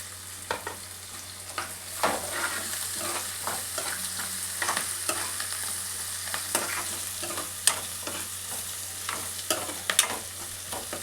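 Onions fry in a pan with turmeric, giving a continuous sizzle broken by frequent scraping stirs and soft clatters from a spoon, close and fairly loud, with no talking.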